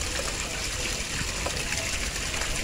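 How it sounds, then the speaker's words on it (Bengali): Water gushes steadily from a tap or hose in a home vegetable garden, making a strong, even rushing sound up close. "পানি নষ্ট হচ্ছে বন্ধ করো বন্ধ করো"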